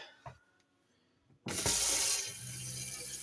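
A tap in a Swift Charisma caravan suddenly opens after a brief knock, and water runs in a steady, loud hiss close by, splashing into the sink.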